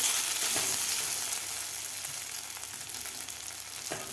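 Soaked sabudana frying together with dry fruits in a pan, a steady broadband sizzle running throughout with faint scraping clicks, no voices.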